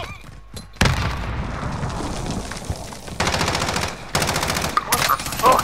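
Automatic gunfire and explosive bursts in Warzone combat, with a grenade blast and rocket launcher fire nearby; several loud rapid volleys arrive in separate bursts, sharp booms punctuating the chatter of rifles.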